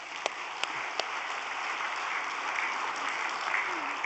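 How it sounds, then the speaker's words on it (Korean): A congregation claps steadily at a vigil prayer gathering, a dense, even wash of applause lasting about four seconds, with a few sharper individual claps standing out near the start. "거기에 우리 박수 한번 보내주시면 감사하겠습니다."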